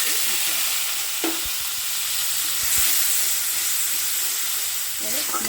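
Tomato, ginger and green chili paste frying in oil tempered with five-spice seeds for a stem vegetable curry, hissing steadily and loudly with a few scraping stirs.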